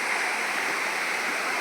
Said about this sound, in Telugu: wow, this is water fall place